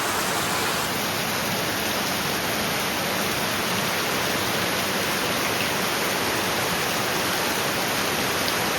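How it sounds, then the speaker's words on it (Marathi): Heavy rain pours steadily over a village in the Konkan region as a dense, even roar. It continues without a break and has no talk over it. "जबरदस्त पाऊस, जबरदस्त पाऊस."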